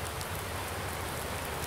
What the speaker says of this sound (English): now it's starting to rain harder and harder